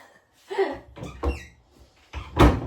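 A cupboard door on a kitchen unit bangs and knocks in a few loud, close thumps spread over a couple of seconds, with a faint squeak between them.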